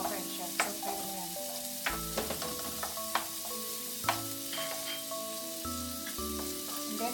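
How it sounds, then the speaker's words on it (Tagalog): Garlic sautés in a wok for a pork spare rib stir fry, a soft steady sizzle broken by scattered clinks and scrapes of a utensil against the pan. "igigisa natin yung ating bawang o yung ating garlic"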